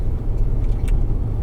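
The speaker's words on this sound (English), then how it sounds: "I'm just warming the car up as we speak." A Range Rover TDV8 diesel V8 idles while warming up, a steady low rumble close by with faint higher hiss and no talk over it.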